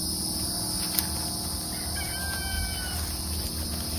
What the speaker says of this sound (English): You hear the roosters crowing.